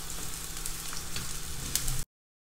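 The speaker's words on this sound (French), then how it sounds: "On va faire revenir les oignons dans un peu d'huile." Onions frying in a little oil for an Egyptian chakchouka, a steady close sizzle and crackle filling the pan for about two seconds before cutting off abruptly.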